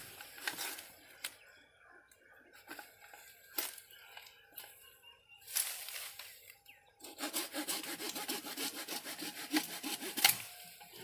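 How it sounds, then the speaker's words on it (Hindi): A hand saw blade rasps through a lemon tree branch during pruning, close and rhythmic, in bursts of back-and-forth strokes with short pauses between them. "आरी पत्ती चलाते समय काफ़ी सावधानी बरतने की आवश्यकता है, नहीं तो आपका ये ब्लेड टूट सकता है।"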